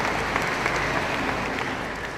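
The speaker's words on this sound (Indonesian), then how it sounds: "tepuk tangan" A crowd at the opening ceremony of a Quran recitation competition claps loudly and steadily, dense sustained applause filling the hall without speech.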